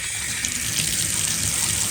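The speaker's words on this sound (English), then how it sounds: "Let me run the water here till it's nice and clear." Water running steadily from a bathtub tap right after a water softener install, a loud, close, unbroken hiss and splash that holds level throughout with no voices.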